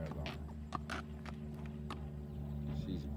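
A horse, an older gentle mare, walks with soft hoof clip-clops under a steady low background hum, with a few sharper footfalls spaced irregularly.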